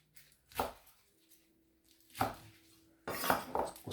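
A knife slices Chinese broccoli (gai lan) at an angle on a cutting board, three distinct chopping thuds spaced about a second and a half apart, close and crisp against a quiet kitchen.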